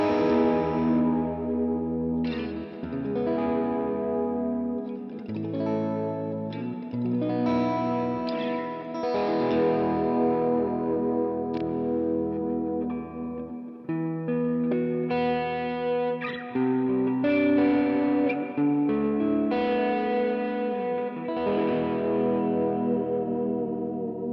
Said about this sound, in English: This is an Ibanez RG460 guitar.